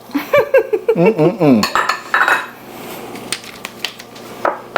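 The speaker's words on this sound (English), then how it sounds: "So you want to mix it until the sugar is kind of dissolved." A sugar mixture is stirred in a bowl with a utensil, producing quick, close clinks and scraping strokes at first that give way to softer, duller mixing noise.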